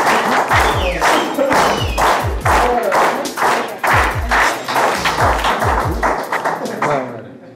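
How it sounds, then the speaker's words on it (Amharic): Warm applause greets a contestant coming onto a game show stage, a crowd clapping steadily and loudly with thumping beats, close and sustained before fading out. "ዘርሽን ሞቅ ባለ ጭብጨባ ወደ ሜዳው"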